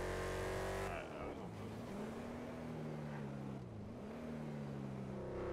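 A truck engine hums steadily in GTA 5, its pitch rising and dipping as it drives along, with no talk over it.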